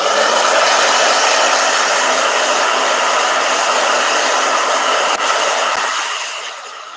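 A blow dryer runs loud and steady near the listener, a continuous broadband whoosh that holds for most of the stretch, then tapers off slightly at the end.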